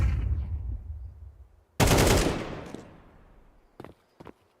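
Gunfire in a Counter-Strike competitive match: a low rumbling volley fades out, then one loud sharp shot with a decaying tail, followed by two short faint shots near the end.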